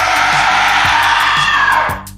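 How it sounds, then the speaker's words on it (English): A piercing scream rings out as a sustained, loud, high-pitched cry over a rhythmic low backing, lasting about two seconds before cutting off abruptly. "you hear a piercing scream."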